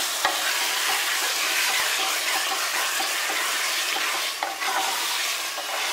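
Mutton sizzling steadily in a pressure cooker pan while being stirred for kasha mangsho nihari, a dense continuous fry with occasional scraping clicks close by.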